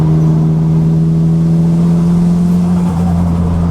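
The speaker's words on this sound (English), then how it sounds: "I love the suction sound of the turbo spooling." Nissan Silvia S15 on a mountain drive, engine droning steadily with a loud, continuous low hum and faint airy whoosh of turbo spool layered above, close and alone without talk.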